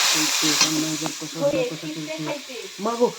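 Water poured into a hot pan of oil with turmeric, ginger and chilli powder hisses and sizzles throughout, while someone talks over the cooking.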